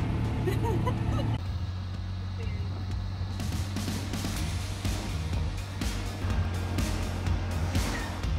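A CNG auto-rickshaw on a ride through Sri Lanka, its small engine rattling and humming steadily nearby with road and wind noise, while a person talks over it.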